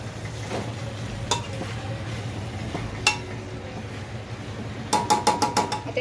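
Pav bhaji vegetables mixed with ginger garlic paste and salt in a pan, a soft sizzle under sharp spoon clinks and knocks against metal, ending in a quick burst of rapid rhythmic taps, close by with no voices.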